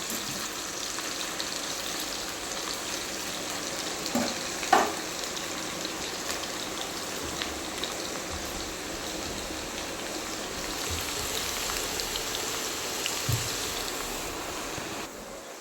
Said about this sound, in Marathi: पूर्ण असं झेपत्या तेलात त्यांना तळू द्यायचं, तेव्हा मस्त होतात म्हणजे.